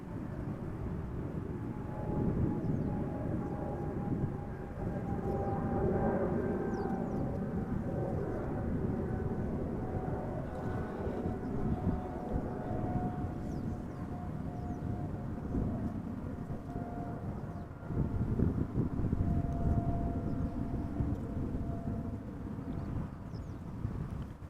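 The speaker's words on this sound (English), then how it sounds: "It is a Boeing 7879 Dreamliner arriving from Cartagena." A KLM Boeing 787-9 Dreamliner arrives at Amsterdam Schiphol in a crosswind, a steady broad engine roar with a faint whining tone, buffeted by wind noise on the microphone throughout.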